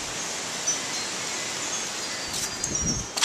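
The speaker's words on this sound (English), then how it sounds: "that wind, it's just a howling out here" Wind howls outdoors near a wind turbine at night as a broad continuous rush of air, steady and fairly loud, with a few gustier swells near the end.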